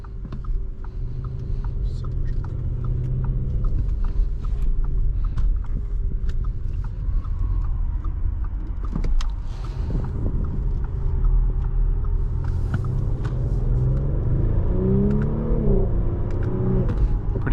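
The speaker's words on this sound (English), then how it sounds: "I like the little pops in the exhaust." A 2023 Audi SQ5 engine rumbles and revs steadily, with occasional small crackles and pops from the exhaust on downshifts as it changes pitch.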